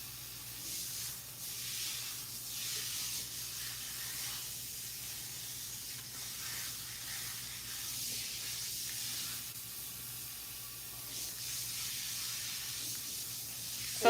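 Water sprays steadily from a salon rinse while hair is washed, a constant soft hiss with gentle surges and dips in strength, close by and without talk.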